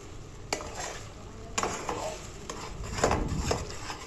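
Semolina (suji) with water being stirred in a kadai with a spoon, a busy scraping and bubbling kitchen sound with several sharp clinks against the pan, close and steady, no talking.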